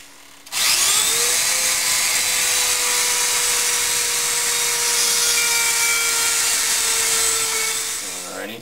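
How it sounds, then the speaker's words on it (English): Small 5/64 drill bit boring through the existing hole in a gear for a pin: a steady, close, high-pitched motor whine that starts abruptly and holds for about eight seconds before easing off, with no talking. "we're going to drill using the 5/64 drill"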